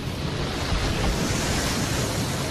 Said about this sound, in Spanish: El río fluye regularmente y deprisa.